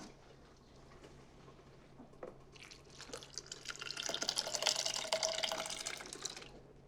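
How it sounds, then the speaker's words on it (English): Cooked pinto beans and their cooking liquid pour into a blender, a wet, splashing stream that grows louder and fuller midway, then cuts off near the end. "add the pinto beans right into the blender. I'm just gonna pour it all."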